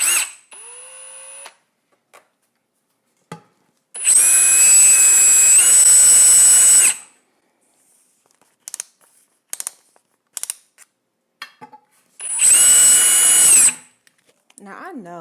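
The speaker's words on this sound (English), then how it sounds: "I'm going to change that with just a regular drill and a metal bit" A regular power drill with a metal bit bores a drainage hole in an overturned plant pot, delivering two loud, close bursts of high whining drilling with short clicks and quiet gaps between.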